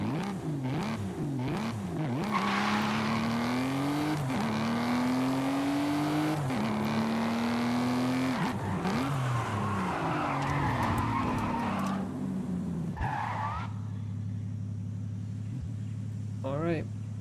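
Forza Horizon 5 car engine roaring loud and close with a steady, rising drone and skidding tires squealing, over in-game music, as the car drifts and accelerates; a voice talks over it for much of the time.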